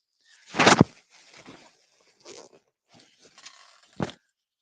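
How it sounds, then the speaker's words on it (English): Two sharp, breathy nose-blowing honks, one early and one near the end, with softer sniffing and rustling between them. "I was blowing my nose there"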